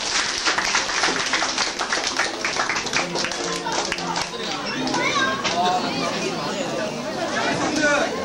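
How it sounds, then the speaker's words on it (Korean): An audience at a church Christmas Eve festival claps steadily for several seconds, a dense, close patter of many hands mixed with chatter and children's voices. "우리 수고하신 박수 한번 칩시다"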